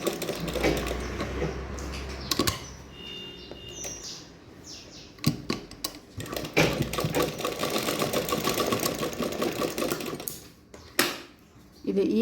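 A sewing machine stitches a kachali garment in long close bursts of rapid mechanical whirring, stopping and restarting, with a few sharp clunks between runs and no speech.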